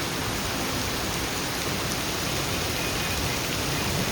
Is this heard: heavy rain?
yes